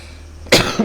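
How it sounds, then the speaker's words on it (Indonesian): A single sharp cough breaks through a quiet room tone during an Islamic religious lecture, close and abrupt, with a brief tail after it. "kok batuk, Rek?"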